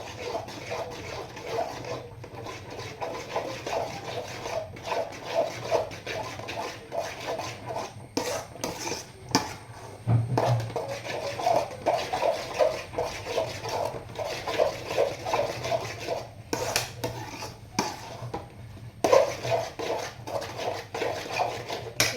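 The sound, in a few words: stirring upma in a pan so it does not stick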